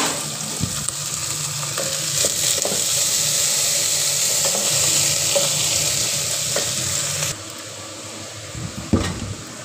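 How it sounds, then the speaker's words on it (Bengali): Chopped eggplant and onion fry in oil with a steady, loud sizzle throughout, broken by a few utensil knocks and stirring scrapes, and the hiss drops a little near the end. "এদিকে কেটে রাখা কলাই বেগুন পেঁয়াজ একসঙ্গে তো তেলের ওপর দিয়ে দিয়েছি, আর ওটা এখন হতে থাক"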